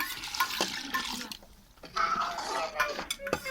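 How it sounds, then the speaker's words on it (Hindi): Water splashes into a cooking pot of fried potatoes and fenugreek leaves in a home kitchen, with a short burst of pouring, metal clinks and clatter of the pot over a few seconds. "अब हम लगे हैं इसमें पानी डालने"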